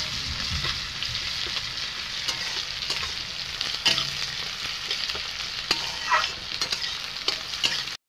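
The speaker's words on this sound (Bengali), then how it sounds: "পেঁয়াজকে আমি এখন ভালোভাবে ভাজিয়ে নেব লাল লাল করে।" Chopped onions fry and are stirred in a pan for a chicken curry, giving a steady, close sizzle with sharp scrapes and clicks of the spoon scattered throughout. No one speaks.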